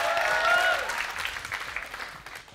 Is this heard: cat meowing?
no